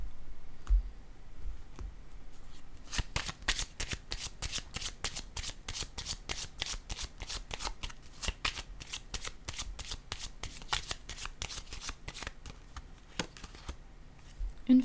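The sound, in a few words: tarot cards being laid down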